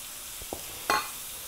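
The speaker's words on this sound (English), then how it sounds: "we're just going to saute these down until they get nice and soft" Minced onions sautéing in a pan for a squash casserole: a short, close, soft sizzling hiss with a couple of light taps and one bright utensil clink partway through, and no voices.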